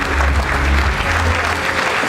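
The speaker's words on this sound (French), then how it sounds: "on peut les applaudir s'il vous plaît" A roomful of people at an awards gathering in Rodez, Aveyron, claps for those posing for a group photo: a dense, loud, continuous wash of applause filling the whole moment without pause.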